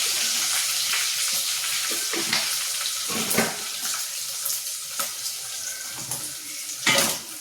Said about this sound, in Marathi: तर आता फोडणी चांगली फ्राय करून त्याच्यामध्ये आपण हळद टाकून घेणार आहोत